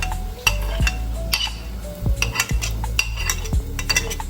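A spoon scrapes and clinks against a bowl while stirring baby food of rice and mackerel in a steady rhythm, close up, with soft knocks every half second or so.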